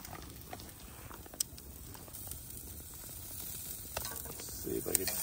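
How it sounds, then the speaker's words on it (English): Burgers sizzle on a campfire grill outdoors at a glamping cabin, a steady faint crackle and hiss with occasional pops, under a quiet background. "We got our burgers on the fire"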